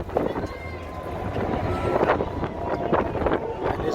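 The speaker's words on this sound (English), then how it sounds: "And it's windy right over here." Gusts of wind buffet the microphone in downtown Chicago, producing a steady, rough low roar that swells slightly toward the end.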